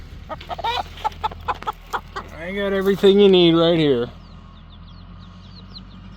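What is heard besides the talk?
chickens clucking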